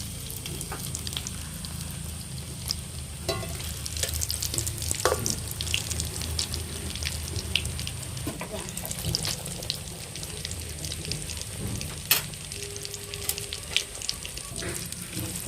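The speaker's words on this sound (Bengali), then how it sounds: "এবার ডিমের মধ্যে ডুবিয়ে এবার বিস্কুট গুঁড়োতে ভালো করে মাখিয়ে নিয়ে তারপর ভেজে নেব" Potato-coated bread pieces, dipped in egg and rolled in biscuit crumbs, fry in hot oil with a steady, moderate sizzle throughout, broken by occasional soft clinks and taps near the pan.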